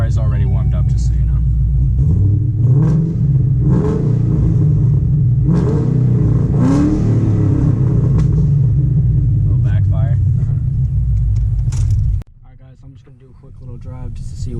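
A steady, loud engine drone heard from inside a car, with a voice talking over it, then the rumble drops away sharply near the end.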